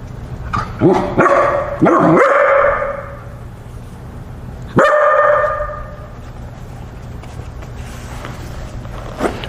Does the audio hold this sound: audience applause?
no